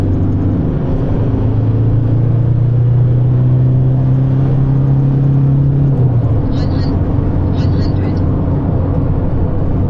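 A stock Isuzu D-Max pickup accelerates hard from standstill toward 100, its engine droning and climbing steadily in pitch before a gear change, heard from inside the cab with a loud road rumble underneath.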